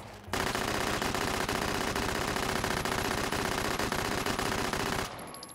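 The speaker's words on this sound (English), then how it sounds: "This is actually a pretty good little submachine gun." An open-bolt submachine gun in the VR shooter Hot Dogs, Horseshoes & Hand Grenades fires one long, unbroken burst of rapid, loud shots lasting about five seconds, then stops abruptly.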